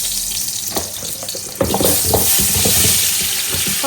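Sliced pumpkin frying in a pan, a loud continuous sizzle that jumps up partway through as more pieces go in, with clattering stirs and scrapes close to the mic and nobody talking.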